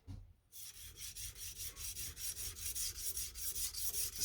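A knife blade is rubbed back and forth on the coarse 80 grit side of a whetstone, giving a steady series of rasping, scratchy strokes, about four per second, close and fairly quiet, alone after a brief pause.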